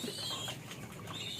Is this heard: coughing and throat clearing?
no